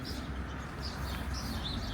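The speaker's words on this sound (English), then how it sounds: "you can hear the birds." Faint bird chirps drift over a steady outdoor street hum beside the Main river in Frankfurt, light and distant, with no talking.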